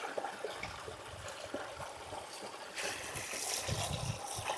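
Rainwater running in a small stream at a Munnar tea estate during the monsoon, a soft steady trickle that swells into a louder rushing flow partway through, with no talk.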